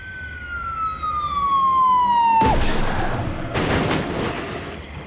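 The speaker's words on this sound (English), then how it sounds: "police car rolls at 11 p.m." A police car siren sweeps downward and cuts off abruptly midway, followed by loud, harsh bursts of noise at night; close and prominent, no talking.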